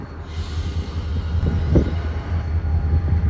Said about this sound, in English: The train is built with Mack switcher cars on the head end and Willamina cars on the rear.